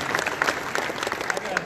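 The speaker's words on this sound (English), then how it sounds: "Let's give them all kind of a round of applause for that." A crowd gives a short round of applause at a cattle chute demonstration. The clapping is dense and continuous, and a voice is faintly audible underneath.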